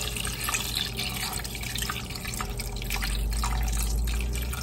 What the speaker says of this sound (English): And I'm gonna add about 4 cups of water, or enough to cover by about a half an inch my chicken.